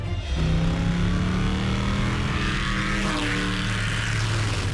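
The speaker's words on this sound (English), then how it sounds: "Let's rev up and roll out." Animated Transformers vehicles roar with a steady, loud engine drone and revving tones, a sustained mechanical rumble that holds for the whole stretch with no talking.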